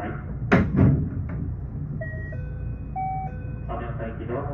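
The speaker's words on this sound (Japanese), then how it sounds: "ドアの閉まりますご注意ください。" Steady tonal chimes and beeps sound over a JR Sagano Line train's hum after a couple of thuds, a door-closing warning, with a muffled announcement under it.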